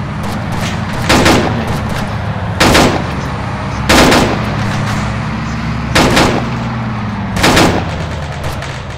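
Gunfire in the military shooter ARMA 3: five heavy shots spaced about every one and a half seconds, each cracking over a constant low engine-like drone.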